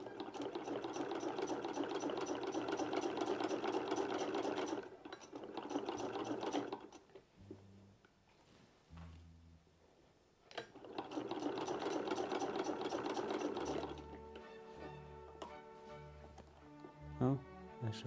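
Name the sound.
sewing machine stitching fabric for a dressing gown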